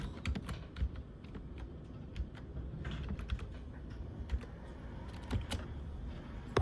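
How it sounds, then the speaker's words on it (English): Password being typed on a computer keyboard beside a Windows 7 PC: a steady run of light, irregular key clicks at close range over a low background hum, with no talking. "I'm gonna set this down while I get the password typed in"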